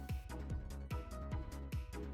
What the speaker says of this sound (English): What you're hearing is the battle results theme